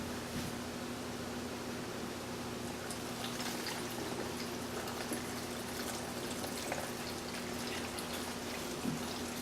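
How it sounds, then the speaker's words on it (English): Water is poured into a blender for a green smoothie with salt and lemons, making a soft, continuous rushing stream that stays faint and steady throughout. "Then we're going to add some water."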